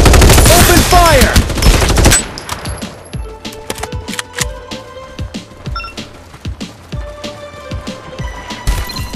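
Gunfire in the battle royale video game Farlight 84: a dense loud burst of automatic fire followed by rapid scattered shots and impacts, with sparse in-game voice lines mixed in.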